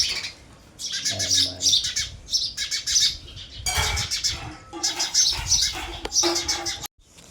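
Small bird chicks chirp close by in quick, bright bursts, with short squawks and a few brief pauses between the runs of high twittering.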